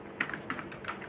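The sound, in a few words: typing formula into Excel on keyboard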